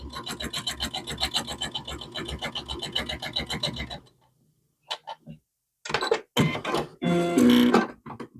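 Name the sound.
sewing machine stitching quilt binding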